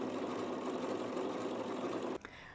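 A sewing machine runs steadily with an overcast foot, its needle swinging side to side in a fast, even mechanical whir that stops abruptly near the end, quiet and close.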